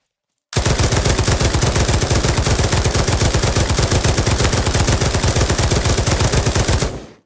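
Sustained automatic fire from an LMG light machine gun in the VR shooter Pavlov, a rapid, evenly spaced stream of loud shots running unbroken for about six seconds before stopping abruptly.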